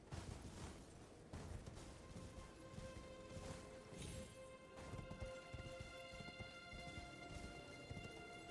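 A summoned steed in a video game trots with rhythmic clip-clopping hooves, steady and close throughout, with occasional faint ringing game tones layered over it.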